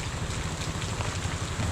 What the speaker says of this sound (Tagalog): Sabi ko umuulan